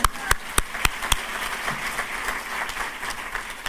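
An audience applauds at a law school commencement for the Joseph McKenna class of 2023, a few loud separate claps first, then a steady, dense wash of clapping from a large crowd.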